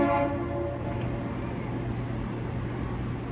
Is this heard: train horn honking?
yes